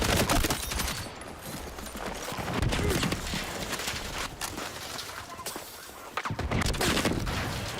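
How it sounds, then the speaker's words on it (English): Mortar shells pound down in a video game battle, with loud repeated explosive thuds and crackling bursts in an unbroken barrage that swells and dips but never quite stops. "I'm getting mortared."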